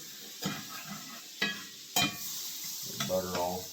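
A utensil scraping a pan of melted butter and leftover bacon bits, several distinct scrapes over a soft sizzle, close and fairly quiet.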